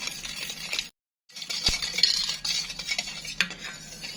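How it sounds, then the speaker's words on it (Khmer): Chicken marinade is stirred with a spoon in a bowl; close, soft wet mixing with repeated scraping and light metallic clinks of the spoon, pausing briefly near one second before the stirring resumes. "បន្តមកនេះខ្ញុំកូរឲ្យសព្វ"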